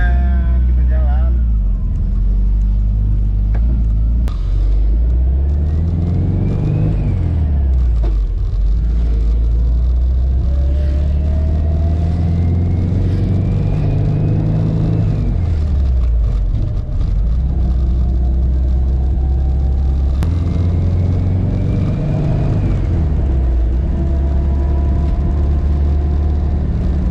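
A classic Volkswagen engine drives off, its deep rumble rising and falling repeatedly through gear changes, loud and close inside the car for the whole stretch.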